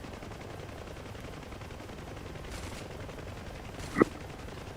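Door gunners on a UH-1 helicopter fire during a night mission in the DCS flight game, heard as two short, faint bursts of gunfire over a constant low rotor and engine drone.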